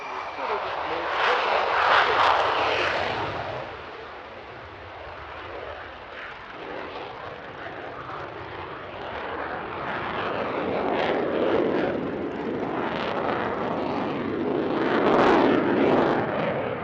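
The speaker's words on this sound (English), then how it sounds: "the Dassault Rafale makes its second appearance of the day, and this time it's a single Rafale C from the French Air and Space Force" A Dassault Rafale C fighter of the French Air and Space Force flies a display at the Air Legend Paris-Villaroche 2021 airshow, its engine roar rising, fading and swelling again as it passes, while a commentator talks throughout.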